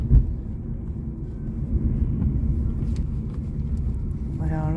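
A car drives along the road toward Cochin International Airport, its low, steady engine and road rumble continuous and close from inside the cabin.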